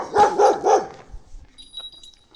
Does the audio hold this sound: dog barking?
yes